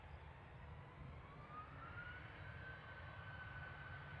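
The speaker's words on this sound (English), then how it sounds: "EasyJet on the roll." An EasyJet airliner on its takeoff roll at Manchester Airport at night makes a faint, distant jet rumble with a thin rising engine whine that builds gradually and holds steady.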